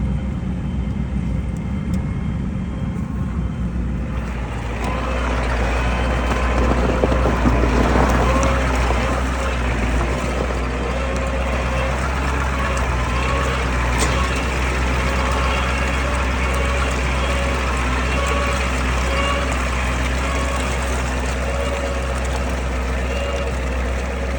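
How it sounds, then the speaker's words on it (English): A truck grinds slowly through rough, snowy winter woodland terrain at steady throttle while out cutting firewood, its engine droning low and continuous throughout, louder after the first few seconds, with wind noise and no talk. "keep steady throttle, and just take it slow through here."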